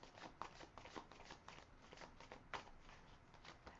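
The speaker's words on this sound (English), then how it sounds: "I'm going to shuffle a little more" Tarot cards are shuffled by hand in steady, soft riffling bursts that repeat for several seconds, close and fairly quiet, with no talking.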